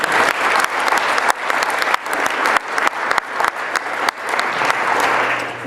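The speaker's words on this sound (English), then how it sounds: "I think that deserves a round of applause." A large crowd applauds at a 2017 victory celebration for donors, loud sustained clapping with a few sharp individual claps standing out, continuous throughout.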